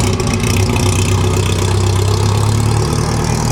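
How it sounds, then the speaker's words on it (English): A vintage Ferrari, a noisy old car shown at a 2008 concours d'elegance, idles with a steady, loud low rumble and a constant mechanical drone throughout, with no talking. "here's that noisy Ferrari we saw yesterday"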